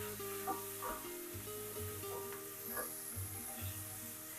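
Onions and carrots fry in rendered pancetta oil in a pan, giving a soft, steady sizzle with faint stirring clinks and scrapes now and then, quiet and close, with no talk.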